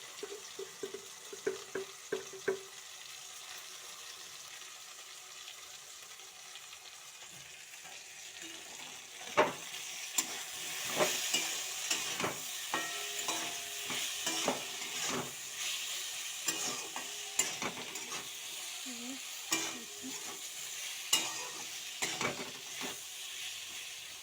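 Eggplant and potato fry with salt and turmeric in a pan, a quiet steady sizzle broken by sharp spatula clicks and scrapes that grow more frequent partway through.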